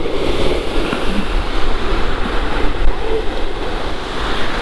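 Waves breaking on a beach along the seafront, a steady broadband wash of surf mixed with gusting wind and microphone buffeting, continuous and fairly loud with no talk.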